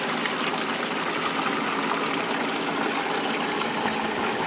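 Water rushes steadily through a Ford Model A radiator during a flow test after back flushing. The gushing hiss is loud and even throughout, with no voices.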